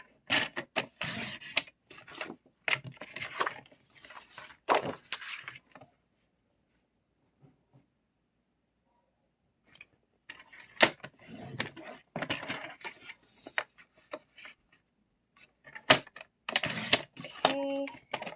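Card stock being scored and cut into card bases on a paper trimmer, bursts of scraping, clicking and sliding strokes separated by quiet gaps, with a spoken voice at points.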